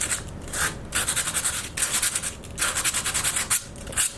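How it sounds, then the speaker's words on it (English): Rhythmic strokes of sanding rub across a Christmas village piece dusted with sawdust, coming in quick close bursts separated by short pauses. "I wonder what happens if I sand it down a little bit."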